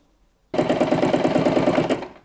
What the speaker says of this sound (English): I'm just going to machine stitch it just to give it a bit more security